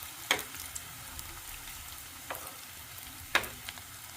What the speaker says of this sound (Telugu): చూడండి, త్వరగా ఫ్రై అయిపోతున్నాయి.